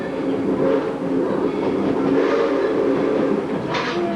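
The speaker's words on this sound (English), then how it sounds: "This coal-burning steam locomotive was built in 1926 by the American Locomotive Company, Patterson, New Jersey." A coal-burning steam locomotive, engine number 97, built in 1926 by the American Locomotive Company, gives off a steady heavy rumble and low clatter throughout. A brief brighter burst comes near the end.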